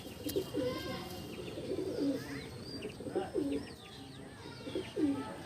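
Delhi pigeons in a loft coo repeatedly, several low throaty calls following one another in steady bursts at moderate distance, with faint chirps above them and no talking.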